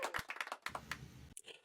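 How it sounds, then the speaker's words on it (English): A small group claps hands to congratulate Mitchem during a Star Wars Legion podcast holiday special, a quick burst of close, uneven claps that stops abruptly. "So I think we need to give a clap for Mitchem"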